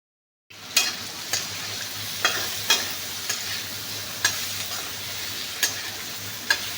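Vegetable bhujia fries on a high flame with a constant close sizzle, broken by regular spatula knocks and scrapes against the pan about every half second to second, with no talk.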